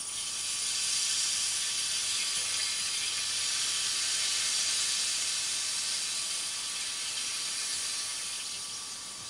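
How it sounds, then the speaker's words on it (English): Chicken stock simmering with rice in a pan for a biryani-style paella, a steady close hiss of bubbling liquid that holds evenly throughout with no talk. "we now cover that with chicken stock and let it simmer for about, I don't know, half an hour or an hour, until the rice has fluffed up"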